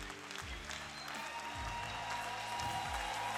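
Applause from a church gathering, steady clapping that carries on through the clip with a faint murmur of voices underneath.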